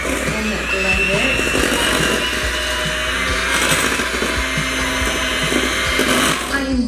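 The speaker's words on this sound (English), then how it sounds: "So I'm just gonna take my little blender and blend it." Small handheld blender whirring through a strawberry shortcake mixture in a jar, a steady buzzing motor with clattering and knocking against the container, continuous for several seconds.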